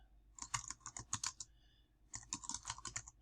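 Rapid typing on a computer keyboard: two bursts of close, crisp key clicks separated by a short pause, loud and clear against an otherwise quiet background.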